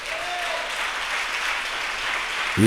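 Applause from a church congregation during a sermon, a steady, moderately loud patter of many hands clapping together with no voices over it.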